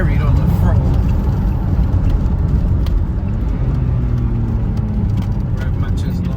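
A 1989 Vauxhall Carlton GSI 3000 24V straight-six under full throttle gives a loud, steady in-cabin roar with road noise, and someone talks over it.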